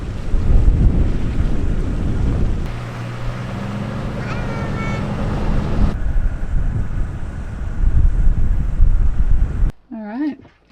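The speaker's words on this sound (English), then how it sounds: "Some crazy wind." Strong wind blows by the water on a New Zealand road trip, a loud, continuous roar buffeting the microphone with gusty swells, while voices speak at times and a bird calls briefly near the end.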